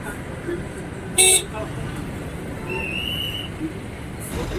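Busy road traffic jam with a loud short horn honk early on, a fainter higher toot later and another brief honk near the end over constant engine rumble, with someone talking throughout.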